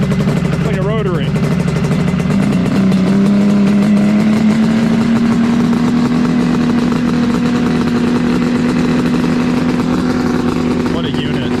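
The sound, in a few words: two-stroke side-by-side engine running at high RPM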